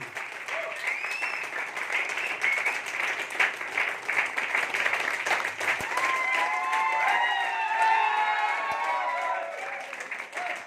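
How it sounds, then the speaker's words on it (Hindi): Enthusiastic audience applause at a Hindi-language business plan seminar, dense clapping sustained throughout, swelling slightly toward the end, with faint cheers or voices mixed in. "एक जोरदार शानदार ताली।"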